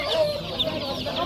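Young roosters cluck at a Friday poultry bazaar in Mingbuloq, several short calls over a busy crowd murmur.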